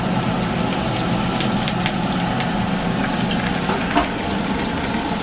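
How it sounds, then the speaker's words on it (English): Mushrooms frying in oil for a Sichuan vegan dish, giving a steady, close sizzle and crackle with occasional sharper pops, no talking. "Now fry it the mushroom."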